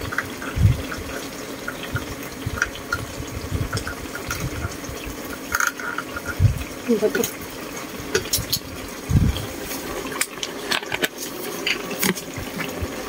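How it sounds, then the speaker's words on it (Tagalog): Water is added to a cooking pot of vegetables and sardines, splashing and trickling unevenly with intermittent pours and drips, at close range with no talking. "dagdagan lang natin konting tubig"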